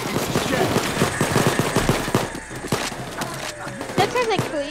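Bursts of automatic gunfire fired out a window during a video game bank robbery, loud rapid cracks with wooden splintering, people shouting over the shooting.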